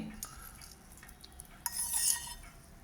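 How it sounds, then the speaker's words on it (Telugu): A hot tempering is stirred into coconut curd chutney, with soft scraping and clinking of a spoon against a bowl, close and quiet, swelling briefly near the end. "పోపు ఇందులో మిక్స్ చేసుకోవాలి."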